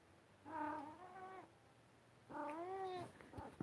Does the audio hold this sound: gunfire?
no